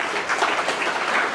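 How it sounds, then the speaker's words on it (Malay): A brief burst of dense audience clapping at an Islamic lecture hall session, applauding the moderator, steady and moderately loud with no voices over it. "Tepukan pada moderator kita."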